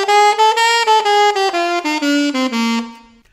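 A saxophone plays a falling run of swung bebop-style quavers in a jazz style, about a dozen clear legato notes stepping downward with a lilting long-short feel, close and alone, ending on a held low note that fades out.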